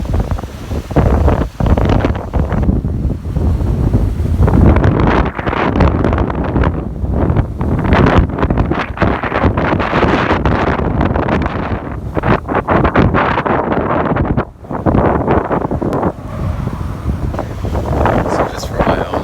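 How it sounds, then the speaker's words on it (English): Strong wind blows across water with waves, a loud, continuous roar with heavy gusty buffeting of the microphone that barely lets up, and low surf beneath it. "So you look at how the wind is blowing the waves."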